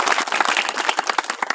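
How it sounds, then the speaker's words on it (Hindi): A crowd at a public speech bursts into hearty applause: brisk, closely packed claps with distinct individual slaps, loud and close, with no talking over it. "एक बार जोरदार ताली लोगों के लिए।"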